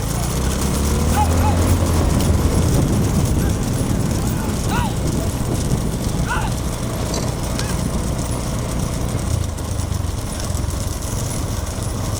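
Bulls pull carts in a big-bull cart race at Thalirmarungur, hooves and wheels rumbling under loud, continuous crowd noise and shouting throughout, with an engine droning nearby.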